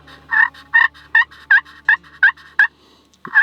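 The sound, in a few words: slim pot turkey call being played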